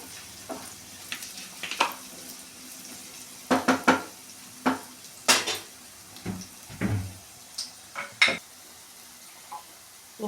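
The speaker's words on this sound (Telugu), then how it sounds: "ఉల్లిగడ్డలు మధ్యలో ఒకసారి కలపాలి" Onions fry in a pan while a spoon stirs them in scattered scrapes and clinks. A faint sizzle runs underneath, the sound is close and fairly quiet, and there is no talk.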